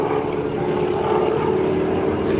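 Propeller aircraft of the GEICO Skytypers team fly at a naval air station airshow, a steady, loud droning engine roar that holds throughout.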